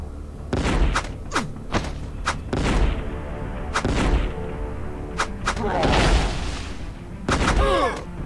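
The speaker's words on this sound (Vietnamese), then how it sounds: "Bọn hải quân mình bắn phát vỡ nhà nó luôn này." Navy units in the stick-figure battle game Stick War Legacy fire their cannons in a loud series of heavy booms, about eight sharp blasts spaced irregularly, each with a short rumbling tail, over constant battle noise.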